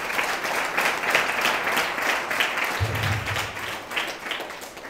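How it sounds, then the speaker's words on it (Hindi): Crowd claps and cheers at an outdoor election rally in Konta, Sukma, Chhattisgarh, a dense, continuous patter of many hands at fairly loud level, with a brief low rumble partway through. "उनके लिए जोरदार ताली मार रहे।"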